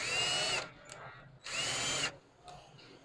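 A Dewalt DCD700 cordless drill driver runs in two short bursts of high whirring motor, each revving up and cutting off, with a quieter pause and faint clicks between them.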